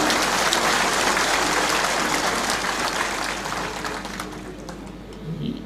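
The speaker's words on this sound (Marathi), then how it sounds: "आपण सर्वांनी टाळ्या वाजवून पहिल्यांदा पवार साहेबांचं या ठिकाणी स्वागत करा" A large crowd at a political rally in Indapur claps to welcome Sharad Pawar, a dense and sustained wash of applause that slowly thins and fades toward the end.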